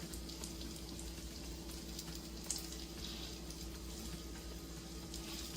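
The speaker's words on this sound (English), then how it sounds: "Everything is frying up in there." Steady sizzling and crackling of shrimp and vegetables frying in a hot pan for egg foo young, continuous and fairly close, with occasional louder pops.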